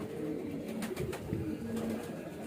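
Soft, low cooing from young highflyer pigeons kept in a loft, a faint continuous murmur with a few brief rustles of wings.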